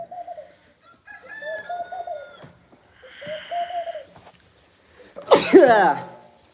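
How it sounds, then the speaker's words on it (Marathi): Free-roaming village hens cluck and call in drawn-out, wavering notes, near and fairly loud, followed by a sharp harsh squawk toward the end. "कोंबड्या सोडल्यात तुम्हाला सांगतो इकडं"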